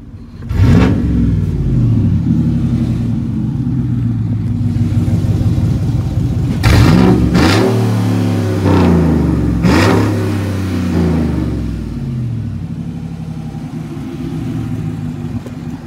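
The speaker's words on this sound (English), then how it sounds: "I'm gonna try to rev it" A Chevrolet Silverado truck with headers, an intake and a 2.5-inch electric exhaust cutout open revs hard several times from inside the cab, a deep, loud rumble that swells and falls over a steady idle.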